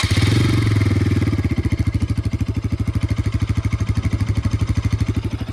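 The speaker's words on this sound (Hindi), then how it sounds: "पहले मैं आपको RS का आइडल सुनाता हूँ, फिर रेव करके सुनाऊंगा।" A Yamaha RS200 motorcycle idles with its exhaust close by, giving a loud, steady train of rapid thumping pulses with no talking over it.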